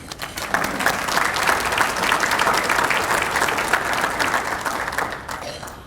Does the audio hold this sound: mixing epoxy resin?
no